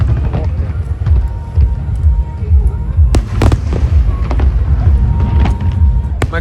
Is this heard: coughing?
no